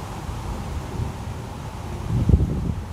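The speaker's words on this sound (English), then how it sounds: "now I'm feeling the wind blowing at me now." Wind from post-tropical storm Lee blows as a steady roar and buffets the microphone outdoors, gusting stronger toward the end.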